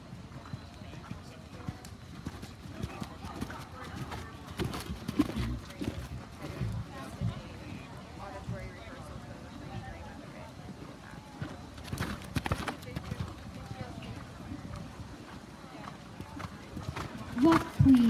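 Horses canter around a show ring during a walk-trot-canter class at Stony Brook, with steady soft hoofbeats running throughout beneath an announcer's voice.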